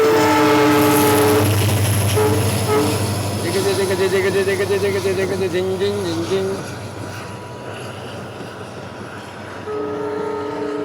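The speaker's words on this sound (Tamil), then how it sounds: "இப்போ வரக்கூடிய வண்டி வந்து மதுரை வண்டி" Madurai-bound passenger train crossing the Pamban sea bridge in gusty storm wind, with a loud sustained rumble of wheels and carriages, horn-like tonal blasts early on, and wind roar throughout; a voice talks over it.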